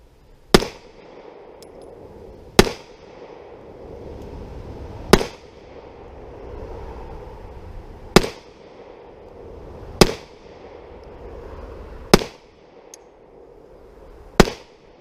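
A Kahr 9mm pistol fired seven times at uneven intervals of two to three seconds; each shot is a sharp, loud crack with a short tail.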